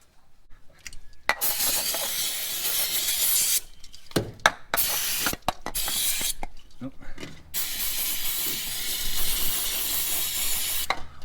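Brake cleaner sprays from an aerosol can onto the engine of a Holden HK during a rocker cover gasket job, several long loud hissing bursts separated by brief pauses and clicks, up close.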